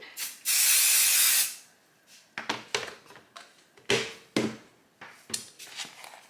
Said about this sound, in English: grab my adhesive spray. And I'm gonna spray the portion